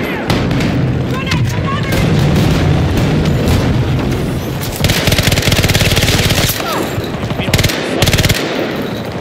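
AC9 gunfire in Battlefield 2042 rattles in loud, dense automatic bursts with booms and explosions, game voices calling out over the shooting throughout.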